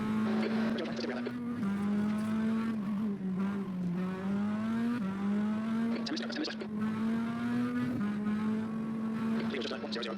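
A Mazda MX-5 Cup race car in iRacing, its engine holding a steady droning tone that shifts pitch in small steps as it drives back slowly, with a voice talking over it.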